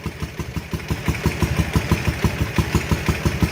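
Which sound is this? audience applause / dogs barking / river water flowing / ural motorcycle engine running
ural motorcycle engine running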